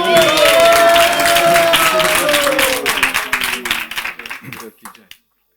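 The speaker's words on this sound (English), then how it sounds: "Give him a big round of applause." Audience at a spiritual class in Mayapur gives a round of applause for a translator, dense clapping that thins out and fades to silence, with a voice heard over the start.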